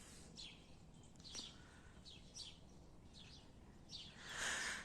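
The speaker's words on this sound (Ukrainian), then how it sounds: "І так ці дні ще щебечуть пташки." Small birds chirp and twitter outdoors on a spring morning, repeated short bright calls at a moderate distance over steady background ambience, with a louder burst near the end.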